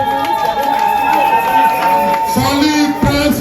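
A large crowd at an enthronement ceremony for a prince of Ekonda culture roars in continuous acclamation, with dense chatter, cheering and scattered clapping at full loudness throughout, and voices rising within the din.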